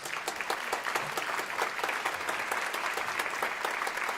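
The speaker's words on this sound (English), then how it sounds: "Can we have a round of applause for all these candidates?" A crowd claps steadily, a dense patter of applause that holds at an even level throughout.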